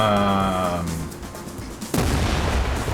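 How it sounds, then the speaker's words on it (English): A sudden loud blast in the shooter game TimeSplitters Rewind cuts in after a fading tonal game sound, leaving a sustained roaring burst of noise, with no speech over it. "there was a natural gas explosion"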